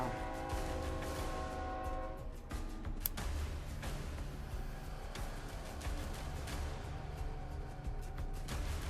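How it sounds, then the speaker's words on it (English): A train rumbles past in the background of Fallout London, a steady broadband roar running throughout, with a horn-like tonal blast in the first couple of seconds and no voices. "I don't know if you can hear the train"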